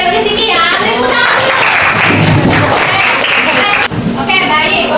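Classroom applause from children, a burst of clapping hands filling most of the moment before fading, with young voices mixed in.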